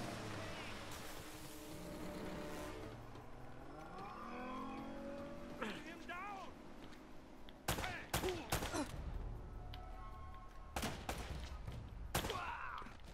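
Gunfire in the Uncharted: Drake's Fortune video game: several sharp, loud shots in quick bursts cut through an engine-like drone and splashing water, with a voice speaking over the earlier part.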